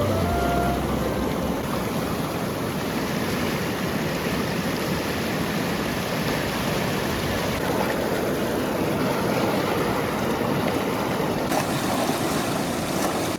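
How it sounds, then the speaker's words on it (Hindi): Fast-flowing water rushes near Attabad Lake, a dense, steady roar of turbulent current filling the scene continuously and close by, with no voices. "पानी बह रहा था फुल स्पीड में"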